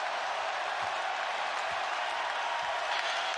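A basketball arena crowd at a Lakers versus Grizzlies game, fourth quarter, giving a steady wash of cheering and applause, distant and moderately loud throughout.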